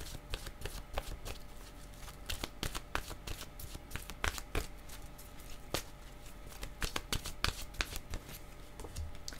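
Playing cards shuffled by hand during a tarot-style card reading, a steady run of crisp riffling clicks and soft slaps lasting throughout, close and fairly quiet with no talking.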